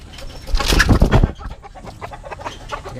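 A bantam chicken and a labuyo jungle fowl cluck close by in a backyard, a short burst of loud, busy clucking that settles into softer murmuring.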